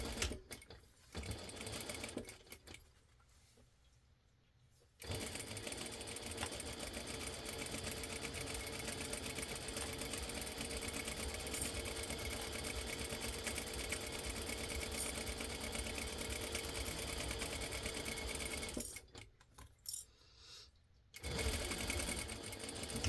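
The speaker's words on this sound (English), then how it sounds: "we're going to sew this long side with our foot down" A sewing machine stitches the long quarter-inch seam of a fabric scrunchie, humming steadily for about fourteen seconds between short pauses at the start and end.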